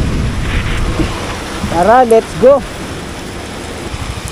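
Heavy rain falling steadily as a dense, loud hiss throughout, with a person speaking briefly over it in the middle.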